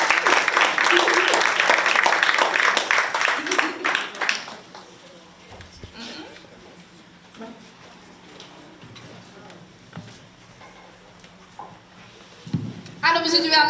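Talk-show studio audience applauding a guest, a dense burst of clapping in the first few seconds that quickly fades, followed by quieter talk and a brief return of claps at the end.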